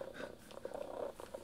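Orange tabby robot companion cat purring with a close, soft, steady low rumble that pulses rhythmically.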